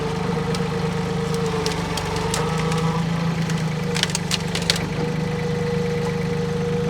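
A hydraulic tree-removal machine's engine runs steadily at a mid-pitched idle throughout, loud and close, with some clanking and hissing bursts on top and no talk.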